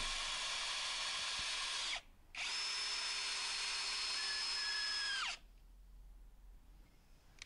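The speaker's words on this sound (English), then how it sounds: "I'm going to start off with a 65mm decking screw, and there's no pilot holes here, so I'm just going to drive them straight into the wood." A Ferrex Pro 40v brushless cordless combi drill drives a 65mm decking screw straight into wood without a pilot hole: two close, loud whirring bursts with a short pause between, the motor pitch dropping as the screw seats, then quiet.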